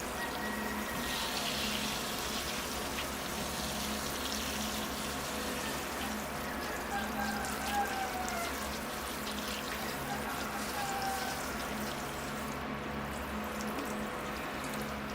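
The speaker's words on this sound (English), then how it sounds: "here I go with the rinse cycle. Rotate the tree around, get all the soap out, off and out of the soil." Running water pours steadily over a bonsai tree and its soil to rinse out soap, a continuous close hiss and splash with a low hum beneath, holding evenly for about fifteen seconds.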